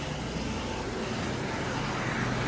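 Helicopter flying over the Vaishno Devi helipad area on the mountain pilgrimage route, a steady loud broadband engine and rotor roar that holds constant throughout with no break.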